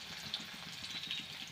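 Cumin and mustard seeds crackling in hot oil in a kadhai, a faint, steady sizzle flecked with small pops, heard alone.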